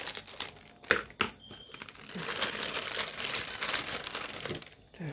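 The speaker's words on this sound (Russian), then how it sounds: "Пакетик был побольше, мы просто его так отрежем." A paper packet of Princess Margaret Rose gladiolus bulbs is snipped open with scissors, giving a couple of sharp clicks and then a long crisp rustle and crinkle of paper, close by with no talk.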